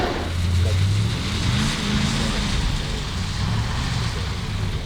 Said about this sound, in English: Just look at the cars on the track